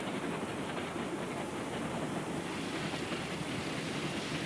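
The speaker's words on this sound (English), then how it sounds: "The train backs around the mountain, then switches again to climb higher." A train climbs a mountain railway, a steady broadband rumble and rush of wheels and wind with no distinct beats, even and unchanging throughout and free of voices.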